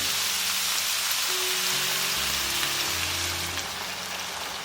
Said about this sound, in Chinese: 加入1大碗开水